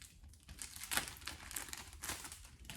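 A small plastic bag holding Gtechniq applicator pads, a sticker and instructions crinkles close and faintly in steady handling bursts, with no talk.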